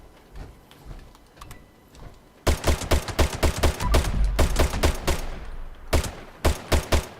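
The Furious Crusader pistol fires rapid repeated shots at a target in Fallout 76, a loud, close run of sharp cracks in quick succession, a brief pause, then a few more shots.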